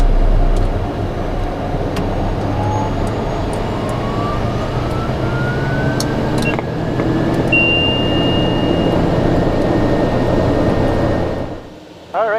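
A TBM850 turboprop engine running just after startup on the ground at Montgomery: a loud, steady, close drone with a rising whine, which drops off sharply near the end.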